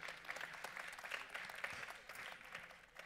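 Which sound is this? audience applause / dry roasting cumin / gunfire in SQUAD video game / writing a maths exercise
audience applause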